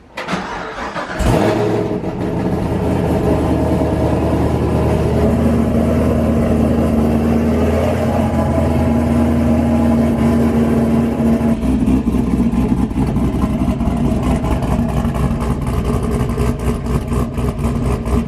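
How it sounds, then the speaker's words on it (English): A 2016 Chevrolet Camaro SS with a 6.2 liter V8, EL-C7 cam and PRC heads, cold starts with a sharp crank and flare, then settles into a loud, steady, lumpy high idle that hums on close by. "So here is a cold start of Jason's Camaro."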